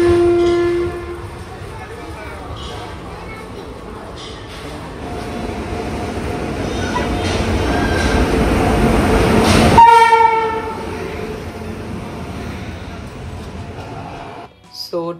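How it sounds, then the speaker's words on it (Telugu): A train pulls into a station, its rumble building steadily before a loud horn blast near the middle, then rolling noise continues as it slows; faint voices are heard in the background. "ట్రైన్ ఎప్పుడు వస్తుందేమో అచానక్"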